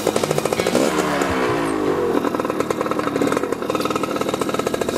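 A motorbike engine runs loud and close, a buzzing, rapidly pulsing drone that climbs briefly in pitch as it revs, then settles into a steady rough idle.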